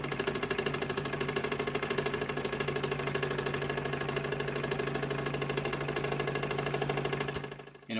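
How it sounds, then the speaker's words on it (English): A collectible working model steam engine by A. Müller runs steadily under power, a continuous close mechanical chugging and whirring hum with a fast even rhythm that briefly dips near the end. "you can actually hear what the steam engine sounds like when it's in power"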